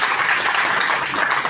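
A crowd applauds loudly at a birthday celebration for a local MNS political leader in Colaba, with steady, dense clapping that continues without a break.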